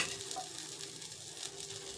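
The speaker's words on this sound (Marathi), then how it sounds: "तेल टाकायचं इकडं" A moong bun dosa fries on a pan, the oil sizzling all around it in a close, steady crackling hiss, with faint stirring touches and no voices.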